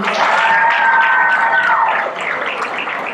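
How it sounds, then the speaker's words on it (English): A poetry slam audience applauds and cheers for the winning poets, with loud, dense clapping and a sustained vocal whoop that rise together and then settle into continued clapping. "And a round of applause for all of you"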